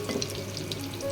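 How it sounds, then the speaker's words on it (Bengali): Potato chops frying in oil for an iftar spread give a continuous close sizzle with light crackles, and no one speaks. "দেখো আলুর চপগুলো আমার ভাজা হয়ে গেছে।"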